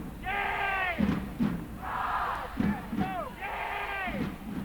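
Home crowd at a women's college soccer match between Clemson and South Carolina, chanting and cheering in rising, sustained waves with a few thuds in between, loud and spread across the stands.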